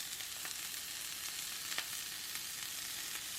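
Chopped onion hitting a hot oiled pan for vegan japchae, giving a loud, steady hiss of frying with faint crackles throughout.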